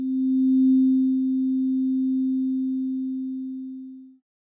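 A Sonic Pi synth plays one steady sine-like note with a long release, starting cleanly, holding level for about four seconds, then softening and dying away into silence.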